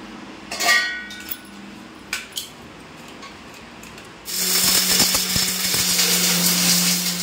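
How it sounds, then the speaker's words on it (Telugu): A few clinks and rattles give way to a loud mixer grinder grinding almonds and cashews, whirring steadily, harsh and continuous, close by. "ఇప్పుడు ఇవన్నీ మనం మిక్సీలో వేసి మంచిగా గ్రైండ్ చేసుకోవాలి"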